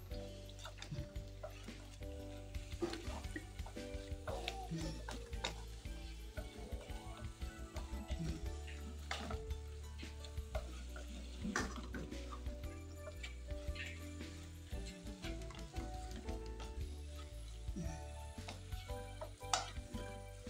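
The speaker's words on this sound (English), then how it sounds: "So all we'll just do now is to stir." Gizzard is stirred in a hot pan for peppered gizzard, soft repeated scrapes and clicks of a spoon over a quiet, low background hiss, fairly faint and without talk.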